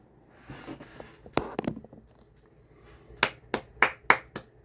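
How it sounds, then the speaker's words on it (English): Scattered sharp hand claps, a few irregular ones early and then a quicker run of five or six, close and fairly quiet against a calm background. "I don't know what the hell I'm clapping for."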